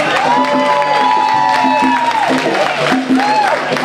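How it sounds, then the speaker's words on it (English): A Kwanzaa celebration crowd in East Palo Alto claps and cheers for a returning college football player, with whoops and voices mixed into the noisy, busy audience sound. "He at least gonna have a hand clap."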